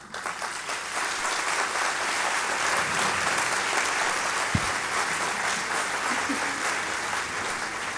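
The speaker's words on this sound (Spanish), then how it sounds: "Vamos a recibir a Jesús Saorín, que es el director de esta agrupación folclórica, con un gran aplauso." An audience at a folk group's show from Cieza, Murcia claps to welcome the ensemble's director, sustained dense applause at an even level for several seconds with one sharp knock partway through.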